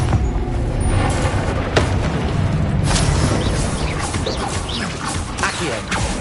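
A Confringo blasting spell bursts in Hogwarts Legacy as a dense, loud crashing roar that rumbles on with debris and whooshing effects throughout.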